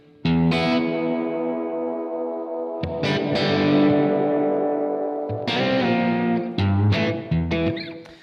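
Distorted electric guitar chords played through a Blackstar AMPED 1 100-watt power pedal, with the reverb freeze holding each chord as a long, shimmering ambient wash before new strums cut in.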